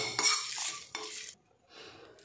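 Metal utensil scraping and stirring spices being dry-roasted in a pan, a few quick strokes with brief scratchy bursts, then quieter rustling toward the end.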